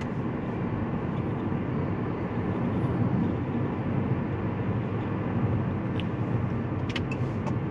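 Abarth 500e electric hatchback with 114 kW motor driving through corners, giving a steady, loud rolling road and tyre roar with a low hum, constant throughout with a few faint high ticks near the end.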